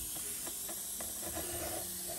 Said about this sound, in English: I'm just gonna color, spray some color on here.